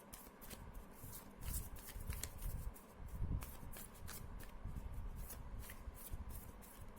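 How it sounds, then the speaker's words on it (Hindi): A deck of cards is shuffled by hand, with soft repeated riffles and flicks close by, as cards are drawn during a pick-a-deck card reading. "चलिए कुछ और कार्ड्स ले लेते हैं आपके लिए"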